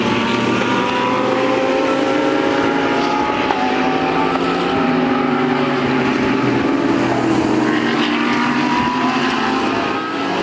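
A Lamborghini race car at the 24 Hours of Spa endurance race roars close by, a loud, continuous engine howl with shifting pitch and dense track noise throughout, no voices.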